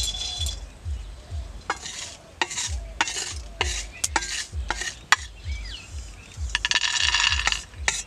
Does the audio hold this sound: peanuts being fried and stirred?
yes